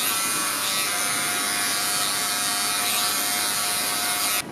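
A Wahl electric hair clipper fitted with a number 1 guard buzzes steadily at close range while cutting hair during a barber demonstration, a continuous high whirring drone that cuts off at the end.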